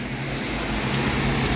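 Heavy rain pouring down outside in Kesan, Turkey, a dense, constant broadband hiss filling the short stretch with no voices.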